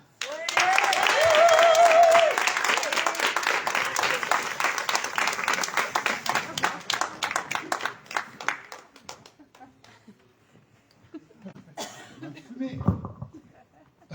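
A Marseille audience claps loudly for the singer, dense applause that thins after several seconds, followed by scattered noises and a brief voice near the end. A short tone sounds early on.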